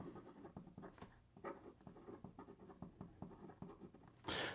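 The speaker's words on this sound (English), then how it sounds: "here we go with the writing sample for the Namiki Nippon" A Namiki Nippon Art fountain pen with a medium 14 karat gold nib, inked with Namiki Blue, scratches across paper in close, steady strokes with short pauses between letters, then a brief louder rustle at the end.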